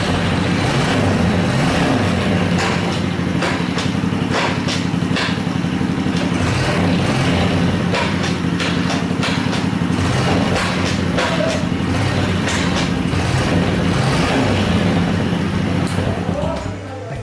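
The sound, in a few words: Honda Super Cub motorcycle engine running in neutral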